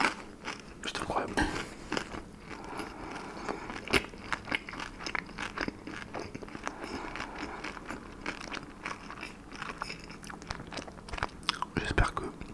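Crispy fried spring rolls (nems) crunched and chewed close to the microphone, with repeated crackly bites and steady mastication throughout, with soft breaths and mouth noises.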